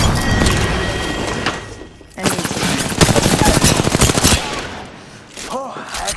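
Loud, fast automatic gunfire rattles through a video game firefight in long sustained bursts, with brief pauses, thuds and other game effects between volleys.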